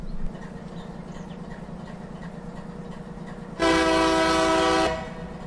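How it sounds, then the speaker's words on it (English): Locomotive in the railroad simulator game Run 8, a steady rhythmic engine chug throughout, then a loud sustained horn blast lasting about a second before cutting off. "So we got the correct horn for the correct whistle for the engine type."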